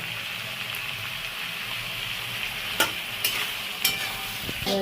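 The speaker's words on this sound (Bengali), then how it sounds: "একটু মশলা দিয়ে তরকারিটা দিয়ে ভালো করে একটু কষিয়ে নিই" Spices, tomato, green chilli and small sea fish (mourala) stir-frying in a pan: a steady close sizzle runs throughout, with a few sharp scraping clatters of a spatula stirring near the end, and no talking.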